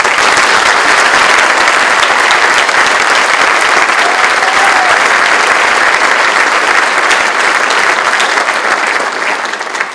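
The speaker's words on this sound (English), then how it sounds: "please, with a round of applause for the Congressman" A crowd at Chief Etchberger's presentation gives the Congressman a round of applause: sustained, loud, even clapping across the whole stretch, tapering slightly at the close.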